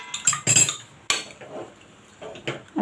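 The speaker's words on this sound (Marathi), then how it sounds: "आता मी याला एकदा परतून घेते" Tomato rice being stirred in a pot, giving close, loud metallic clinks and scrapes of a spoon against the pot in irregular bursts, with quieter scraping between them.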